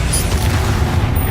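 A spell being cast in the Hogwarts Legacy video game, heard as a continuous loud, booming low rumble with a burst-like magical blast and no pause across the short moment.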